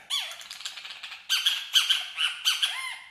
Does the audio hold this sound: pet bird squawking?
yes